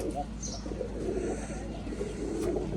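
Flock of pigeons at a Rajshahi colour-matching pigeon farm, cooing low and continuously with faint chirps over a steady background hum, fairly soft, without clear talk.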